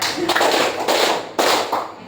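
Ninth-grade students clap together in class, about four crisp, loud group claps in a steady count, a light voice murmuring between them.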